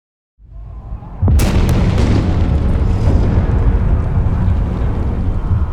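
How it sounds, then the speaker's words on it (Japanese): A deep explosion at the generator foundation in the frozen-city survival game Frostpunk hits suddenly and loudly, then rolls on as a heavy, sustained rumble with no voices. "ジェネレーターの基礎で爆発が起き、トンネルが崩壊して複数の労働者が閉じ込められました。"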